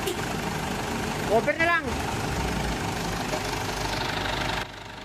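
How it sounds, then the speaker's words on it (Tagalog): A Ford Everest diesel engine idles steadily just after starting, a loud close rumble with a knocking clatter throughout, under brief talk, until the level drops near the end. "hindi ko na pinapatay itong makina"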